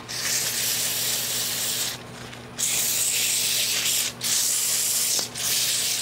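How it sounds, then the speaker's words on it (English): Steady abrasive hissing of sanding against a turning wooden sphere, loud and close, broken by three short pauses before resuming. "So I'm going to take this and keep sanding it."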